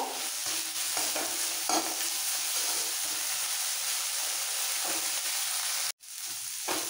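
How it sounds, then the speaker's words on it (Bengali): Whole neem leaves fry in oil left over from frying eggplant, a steady close sizzle broken by soft stirring taps, with a brief sharp clatter near the end and no talk. "এই বেগুন ভাজার তেলেই পুরো নিম পাতাটা ভেজে নেব।"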